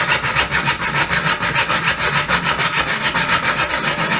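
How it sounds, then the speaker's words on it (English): Hacksaw blade sawing through a fishing rod reel seat, steady back-and-forth rasping strokes at a quick even rhythm, close and loud with no talking. "Then just make sure that you use the hacksaw blade, but it will take you a little bit of time just to get through there."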